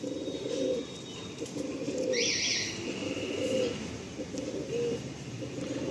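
Madrasi Andhra pigeons coo steadily nearby, a repeating rhythmic series of low calls with a brief higher chirp partway through.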